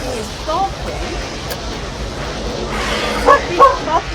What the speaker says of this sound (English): He's barking at the ghost.